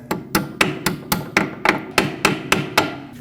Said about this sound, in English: I'm going to take a hammer and gently tap it.